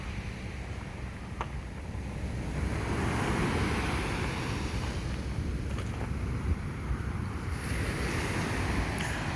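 Ocean waves rolling onto the shore at Hilo, Hawaii: a steady, broad wash of surf swelling and receding, with wind buffeting the microphone, moderately loud, no talking.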